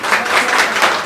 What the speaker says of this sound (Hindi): देखो ये लोग भी आपकी तालियां बजा रहे हैं पीछे